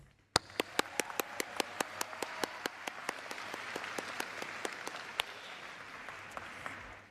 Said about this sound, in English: give a big round of applause for today's musicians